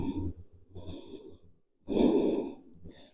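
Slow, deep breathing during a yoga flow, audible inhales and exhales up close with a brief pause between breaths.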